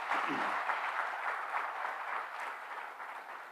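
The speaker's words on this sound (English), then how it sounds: "So a round of applause to all of you." Fairly faint applause from the audience at an MBA inauguration ceremony, steady clapping that slowly tapers over a few seconds without any speech over it.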